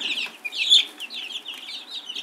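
Several small chicks cheep in quick, high-pitched peeps, a continuous close chorus of tiny chirps.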